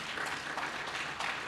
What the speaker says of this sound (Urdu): اتنی بڑی تعداد میں تالیاں ہونی چاہیے